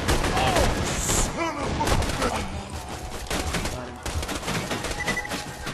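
Gunfire from the video game Borderlands 2, a dense run of rapid shots and bursts over a steady game soundtrack, loud and continuous, with a voice talking over part of it.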